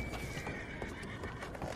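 A horse in the video game Red Dead Online whinnies over a dense, continuous game soundscape with faint hoof clops. The sound is brief and moderately loud, with no speech.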